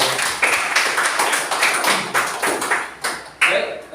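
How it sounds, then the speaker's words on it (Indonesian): A classroom group claps together in a quick, regular rhythm, a close run of evenly spaced sharp hand claps that repeats for several seconds with a few louder accents near the end. "Tepuk tangan semuanya."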